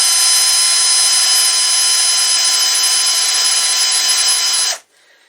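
Rotary tool spinning a rubber bit inside an air rifle barrel to smooth burrs from the rifling, a loud, steady high-pitched whine held for several seconds before cutting off abruptly into near silence.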